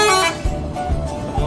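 NPM Sutan Class bus departing with short horn toots and a brassy honk, loud and close over a low engine rumble.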